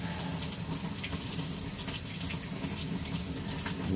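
A high volume of water rushes steadily into a floor drain, a dense, continuous gushing roar with no breaks and no voices.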